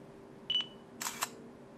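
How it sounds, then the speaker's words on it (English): Shutter button pressed on a Samsung Rogue phone camera: a short electronic beep followed by a two-part snapping shutter sound, close and clear against a quiet background. "Going to bring up the camera by pressing briefly on the shutter button."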